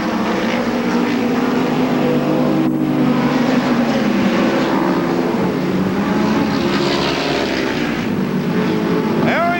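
Midget race cars roar around the Belleville track at the Midget Nationals, a loud continuous engine drone that stays constant beneath an announcer's running commentary.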